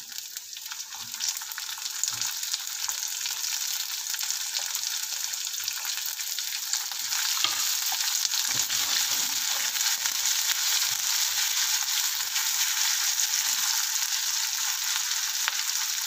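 Garlic and onion fry in hot oil, a steady close hiss of sizzling that runs throughout with occasional soft stirring clatter underneath.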